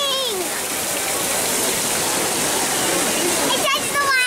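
Trevi Fountain in Rome, a steady rushing gush of falling water that fills the whole stretch, with voices talking over it among the crowd.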